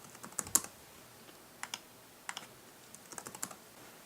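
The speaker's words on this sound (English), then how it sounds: "Keyboard works." A computer keyboard on a Hackintosh test system is typed on in short clusters of crisp, close key clicks separated by brief pauses, with no talking.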